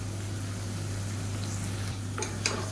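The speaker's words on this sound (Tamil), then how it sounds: "சேர்த்துட்டு நல்லா வதக்கி விட்டுக்கலாம்." Potato and soya chunks are sautéed and stirred with ground coconut paste in a pan, giving a soft, steady sizzle with occasional scraping stir strokes over a constant low hum. No one speaks.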